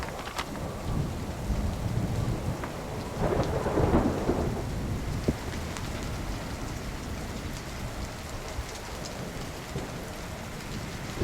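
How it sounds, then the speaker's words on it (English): Heavy rain pours steadily with rolling thunder rumbling through it, strongest near the middle, heard outdoors from a shelter beneath a large rock during flooding, with no voices. "it's flat out raining outside of this"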